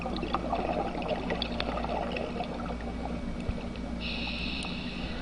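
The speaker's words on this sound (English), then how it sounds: "I was trying to get an effect with the bubbles going up." Scuba bubbles rise underwater in a dense, continuous burbling wash with a low rumble beneath and a brief brighter hiss near the end, and no talk.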